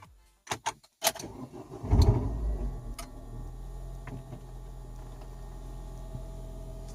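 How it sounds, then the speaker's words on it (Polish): A few clicks and ticks, then a Renault Scenic II engine cranks and catches, settling into a steady low idle up close. "Odpalamy silnik."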